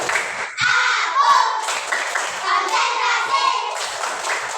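A classroom of children performs a rhythmic concentration clap, bursts of many hands clapping in a set pattern mixed with young voices chanting along, close and lively.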